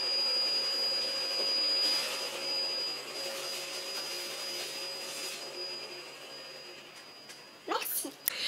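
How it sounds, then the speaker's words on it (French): A neighbour's vacuum cleaner drones steadily from another room, a muffled, constant whine and hum at moderate level that fades off, followed by a few brief knocks near the end. "Merci le voisin qui fout le bordel avec son aspirateur."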